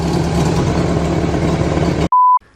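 A car engine with a leaking exhaust idles loud and close with a steady, rough rumble, then cuts abruptly, followed by a short electronic beep.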